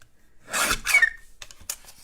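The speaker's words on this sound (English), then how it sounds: "This is a great little trimmer." A paper trimmer slices through card stock in two short scraping strokes, close and fairly quiet, followed by a few faint clicks and rustles.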